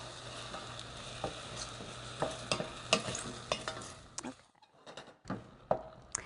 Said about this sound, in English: I'm going to cook this for about 6 minutes, stirring occasionally, and the mushrooms will begin to soften